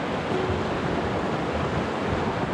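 A river that looks dangerous to cross rushes steadily outdoors in the morning, a loud, continuous broadband wash of flowing water with no pauses or voices.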